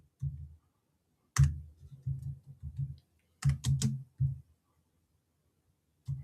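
Typing on a Mac computer keyboard comes as bursts of soft key taps with a few louder clacks, spread in irregular clusters over several seconds and close to the listener.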